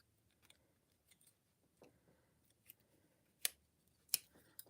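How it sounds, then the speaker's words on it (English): An old pair of scissors being handled, giving faint, scattered clicks and a couple of sharper snips standing out against near silence. "This is a pretty decent pair of scissors."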